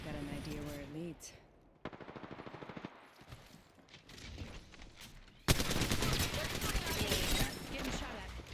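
Automatic weapon fire in the video game Apex Legends: a rapid rattling burst, scattered shots, then a dense loud sustained volley, with a voice speaking over the start of the gunfire.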